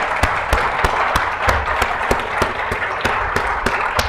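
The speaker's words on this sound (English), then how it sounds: "Let's give our guests a round of applause." Audience applause for guests at a university President's Speaker Series conversation with Liz Truss: a steady wash of many hands clapping, with sharp, evenly spaced claps standing out. It is fairly loud and close, and no one speaks.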